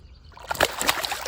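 Carp released back into the water, a short burst of splashing and sloshing that starts after a quiet moment and churns close by.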